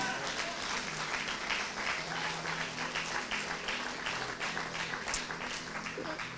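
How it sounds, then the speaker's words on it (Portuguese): Church congregation applauding during a sermon, a dense, sustained wash of clapping from many hands, with voices talking and murmuring underneath. "Se você crê nisso, né, aplauda o Senhor."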